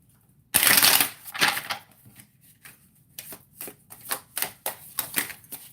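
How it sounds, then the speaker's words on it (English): A deck of tarot cards gets a loud riffle shuffle, then a run of quicker, lighter riffling flicks close up, with no voices. "One more shuffle."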